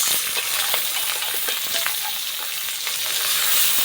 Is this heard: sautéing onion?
yes